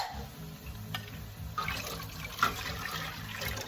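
Bone broth poured into a pot while making French onion soup, a continuous close liquid pour and splash lasting a few seconds over a low steady hum.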